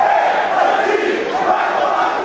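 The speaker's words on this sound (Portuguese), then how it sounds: "Mas a vitória não calou o protesto do torcedor." Flamengo football fans protest in a stadium, a large crowd roaring and chanting together in one steady, loud, unbroken wall of voices.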